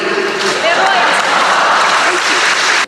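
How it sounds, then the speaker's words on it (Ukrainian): Dense, steady applause from a crowd in Lviv, Ukraine, sending off Boris Johnson, continuous clapping that cuts off abruptly at the end. "Львів'яни проводжають політика аплодисментами"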